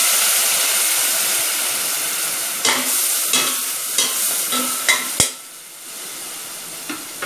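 Potatoes sauté in a pan for potato appalam kootu, a steady close hiss of frying broken by several sharp scrapes and clinks of a stirring spoon, then the sizzle drops to a quieter simmer near the end.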